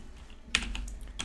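A handful of quiet keystrokes on a computer keyboard, clustered into a short burst of clicks with a few scattered taps, close and alone with no talking.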